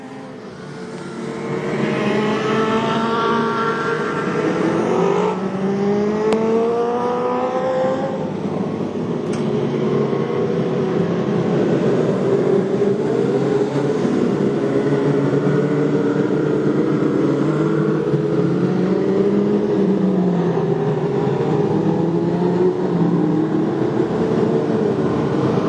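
Modlite race cars at Gympie Speedway sweep into the Suncoast hairpin, engines revving and shifting pitch as several cars pass close, a loud, continuous roar throughout.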